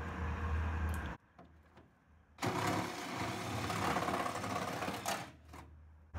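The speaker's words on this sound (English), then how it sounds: "I'm using a 20 volt cordless reciprocating saw with a bimetal taper blade" A 20 volt cordless reciprocating saw with a bimetal taper blade cuts into a plastic Triton chamber. It gives a loud, buzzing run, a pause of about a second, then a longer sustained cut close by.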